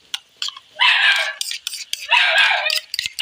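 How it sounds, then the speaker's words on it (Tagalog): A dog gives two harsh, high bursts of barking or yelping about a second apart, close and loud, with short sharp chirps in between. "Ay, yun ang aso."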